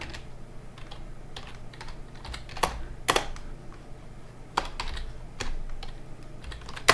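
Keys clatter on a keyboard as a search for Debian Trixie is typed, a close run of light, irregular clicks with a few louder, sharper presses and no voices.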